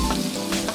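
Fresh beef burgers frying in a pan give off a steady, close hiss of sizzling fat, crackling continuously with no talk over it.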